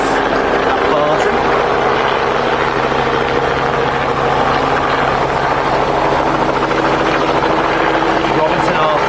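A Robinson R44 helicopter arriving at Barton Aerodrome, Manchester, during a fly-in event, its steady loud rotor chop and engine whine continuous and close, with someone talking over it.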